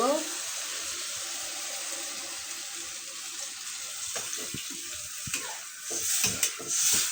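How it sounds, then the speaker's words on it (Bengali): Water poured into a pot of well-fried curry, a steady watery rush with sizzling that breaks into clattering stirring and splashes toward the end, fairly close. "এখন পানিটা দিয়ে দিব"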